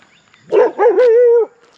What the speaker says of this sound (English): The dog barked, but see, there's a whole gang of dogs down here.